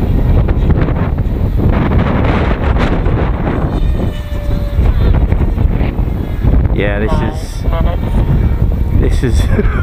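Strong wind buffets the microphone at an outdoor flying session for a repaired S1100 Harrier model jet in about 25 mph winds, a loud continuous rumble and roar with gusting swells and some faint tonal whine.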